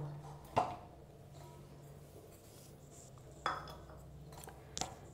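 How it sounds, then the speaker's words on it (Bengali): A metal pot lid lifted off a pot of thekua dough gives three sharp, clinking knocks spread over a few seconds against a quiet kitchen background. "এবারে ঢাকাটা তুলে দেখব"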